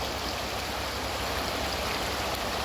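A stream swollen by rainwater rushes in a dense, steady, close roar that holds an even level throughout, with no voices.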